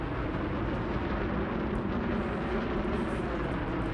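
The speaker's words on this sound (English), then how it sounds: "here's what it looks like when you're firing your engines" Steady, dense engine roar from a Mamba spaceship firing its thrusters in Elite Dangerous, a continuous broadband rumble holding level for the whole stretch with no voices over it.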